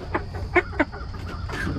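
Leash fighter chickens give a few short clucks inside a coop pen, two sharp calls standing out near the middle over a low background hum.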